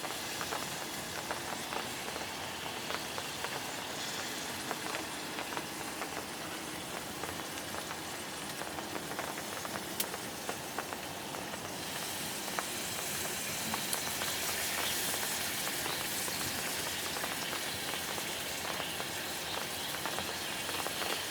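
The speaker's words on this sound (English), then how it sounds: "you hit that bottom plate and you can hear it sizzling down there" Barbecue sauce drips onto the hot bottom plate of an LSG El Patron grill under baby back ribs, making a continuous close, crackling sizzle that holds steady and grows slightly brighter partway through.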